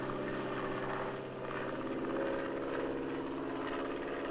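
A small plane's engine drones steadily and loudly on an aerial survey flight over the Santa Cruz and Santa Rosa Islands, a constant propeller hum with no talk.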